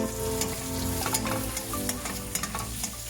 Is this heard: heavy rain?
no